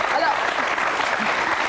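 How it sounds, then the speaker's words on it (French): A television studio audience applauds in a dense, steady burst of clapping that holds evenly throughout, with no pauses and no voices standing out. "on peut applaudir"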